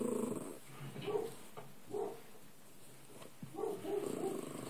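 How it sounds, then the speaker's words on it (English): A pet dog in a room gives low, quiet growls and grumbles in a few short bursts, faint and close, with no talking over it. "Sorry, my dog's in here with me."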